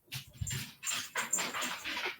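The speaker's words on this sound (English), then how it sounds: "my dogs are going absolutely berserk upstairs" Dogs in a room upstairs go into a frantic burst of barks and whimpers, heard as quick, choppy, muffled yelps in rapid succession.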